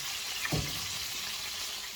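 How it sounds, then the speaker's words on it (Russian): Chicken pieces tipped into a wide paella pan already holding fried artichoke and pepper sizzle with a steady, fairly quiet hiss, with one soft thud as the meat lands early on. "Только что мы вывалили в сковородку, где пожарился артишок с перцем, куски курицы"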